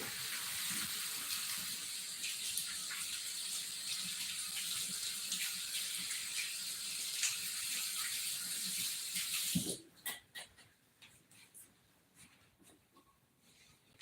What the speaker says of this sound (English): I'm going to give it a rinse.